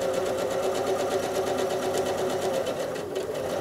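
Sewing machine quilting fabric, a continuous close, steady hum of rapid needle strokes at even speed throughout.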